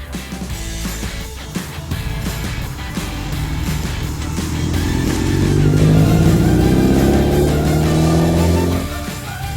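A tuned Subaru STI on a test drive rumbles steadily from inside or close by, then its engine swells into a rising, revving acceleration in the middle before easing back, with rattling road noise throughout.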